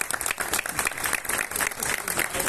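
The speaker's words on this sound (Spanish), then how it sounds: "quisiera un aplauso para todos ustedes" Dense applause from an audience at a tribute event honoring a journalist, steady broadband clapping filling the whole stretch, loud and close with no break.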